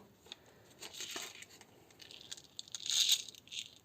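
Plastic packaging on a parcel of craft supplies being torn open, with crinkling rustles and a louder ripping burst near the end, close and fairly quiet, no talking.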